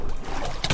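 A boat engine in a video game hums steadily with splashing water, ending in a brief louder burst of noise near the close.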